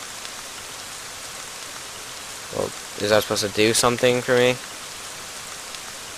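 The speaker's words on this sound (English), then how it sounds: "now it's raining here." Steady rain falls in the video game Ib, a constant soft hiss that runs throughout. A person talks briefly over the rain partway through.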